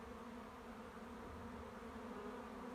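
A crowd of honeybees swarms at a beehive entrance while young bees take flight, producing a dense, continuous buzzing drone, faint and steady throughout.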